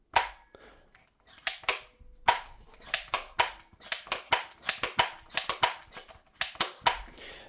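Manual gel blaster toy gun, hand-cocked without batteries, firing a rapid string of sharp snapping shots, roughly twenty close, loud cracks in quick irregular bursts with brief pauses between them.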